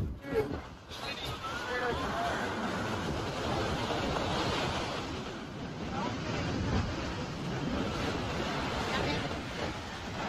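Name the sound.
sea waves at Anjuna Beach, Goa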